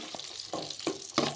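Salted fish frying in hot oil gives a close, steady sizzle, with a few louder crackling bursts as the pieces are stirred or turned.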